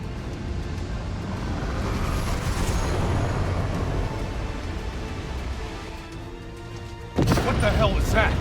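Explosions across a facility in the video game Call of Duty: Black Ops 3, a sustained rumbling roar and crashing din that fades slightly before a sharp loud burst near the end.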